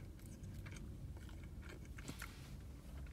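Close, wet chewing and munching of food, with repeated bites and crunchy mouth sounds through a steady low background, no talking.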